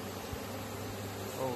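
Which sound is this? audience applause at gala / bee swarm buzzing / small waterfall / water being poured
bee swarm buzzing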